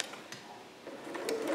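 A home sewing machine stitches a skirt seam for a Vogue 8280 garment, with soft mechanical whirring and a few brief clicks that grow slightly louder toward the end, close up with no talking.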